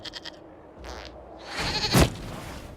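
A goat bleats in the video game Dragon Age Inquisition, with a few short quiet calls that give way to a louder, wavering bleat near the end.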